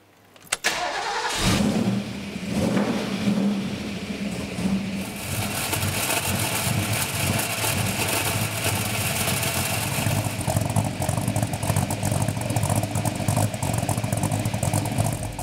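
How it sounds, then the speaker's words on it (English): A cammed Ford GT Falcon V8 engine cranks and roars to life, then settles into a loud, lumpy, rumbling idle that keeps running without a break. "there's nothing quite like the sound of a cammed up GT Falcon"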